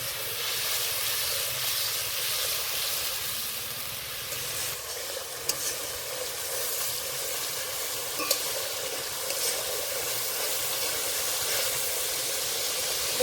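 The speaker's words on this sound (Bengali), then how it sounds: "কাঁচা লঙ্কা এবার ভালো করে কষে নেব" Green chillies and spice paste fry in oil in a pan for bhola fish curry with mustard and poppy seed paste, a steady close sizzle with occasional stirring scrapes throughout.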